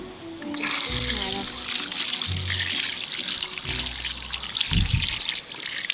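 Running water rinses a giant tortoise that had been stuck in rodent glue trap residue, a steady splashing stream throughout with louder gushes near the end, while someone talks softly over it.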